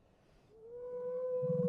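A wolf howl begins low and rough, then rises into a long, steady, clear tone that swells louder toward the end, alone with no voices.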